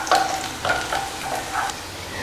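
Ginger, garlic and green chillies sauté in a pan for a leftover kothu chapathi, with a soft sizzle under a few scraping bursts of stirring at an uneven rhythm.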